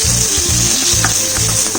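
Garlic and onion sautéing in a hot pan, with a loud, dense, continuous sizzle and a repeated rhythmic scraping of a utensil stirring underneath.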